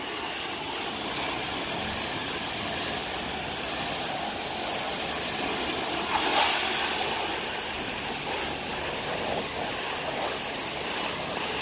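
High-pressure washer at a car wash spraying at about 160 bar, a steady, loud close hiss lasting throughout with a slight surge midway and no talking over it.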